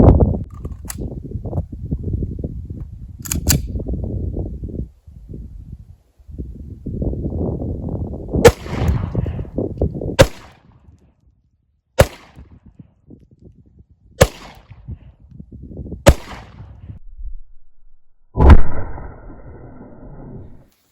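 A SIG P250 pistol in .40 S&W fires sharp, loud single shots spaced several seconds apart, each a crisp crack over quieter rustling and handling noise, with one final report ringing a little longer.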